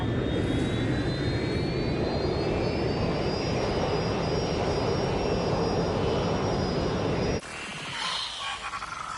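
A plane roars overhead in Watch Dogs Legion, a loud broadband jet rush with a rising whine that runs steadily and then cuts off abruptly near the end, leaving quieter ambient game noise.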